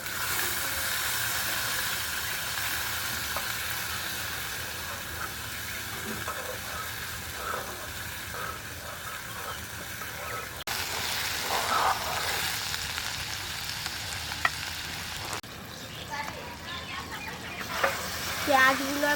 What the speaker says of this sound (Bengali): এবার আমি দিয়ে দেবো পেঁয়াজ কুচি। এবার আমি নেড়ে নেবো।